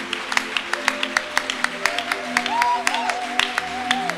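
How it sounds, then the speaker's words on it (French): A church congregation claps in a steady rhythm during a celebration service, with sharp, evenly spaced claps under a voice that cheers and sings over them. "Donne une acclamation de célébration à Dieu"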